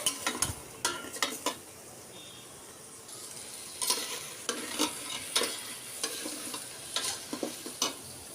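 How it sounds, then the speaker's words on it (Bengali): Vegetables fry in a pan with garam masala, a steady sizzle broken by repeated scraping stirs that come in irregular bursts, close and fairly quiet, with no talk. "ভালো করে ভেজে নিচ্ছি, আপনারাও একটু ভালো করে ভেজে নেবেন।"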